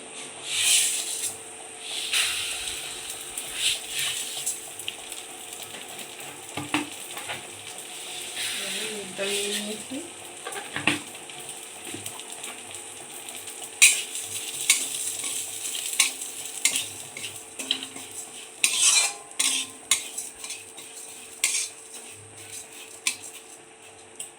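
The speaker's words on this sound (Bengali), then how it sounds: "ডালটা ভালো করে ভেজে নেবো" Lentils for a bitter dal with papaya fry in a pan, giving a low, steady sizzle with scattered scraping stirs and clinks of the spoon, recorded close in a home kitchen.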